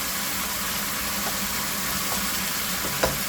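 Food sautéing in a pan for Filipino ginisa: a steady, even sizzle and crackle with a faint stir at the end, moderately close and without talk.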